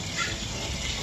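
Water from a bucket pours out in a steady, continuous gush, poured into a hole for mixing concrete to set a fence post; close and fairly loud throughout, with no talking.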